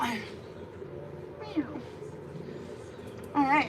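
A Persian cat gives a couple of short meows while being groomed during a bath. The meows are moderately close and heard under a person talking.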